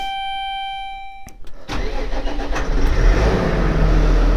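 A tractor engine starts after a few sharp clicks and cranking, catching with a loud throaty roar and settling into a rough, rumbling idle close by, after a high electronic warning tone.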